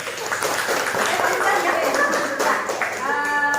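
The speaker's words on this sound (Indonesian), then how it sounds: "Beri aplaus dulu" An audience at a school teachers' learning-community session claps together, a dense burst of steady applause lasting a few seconds, close and fairly loud, with a voice speaking over it near the end.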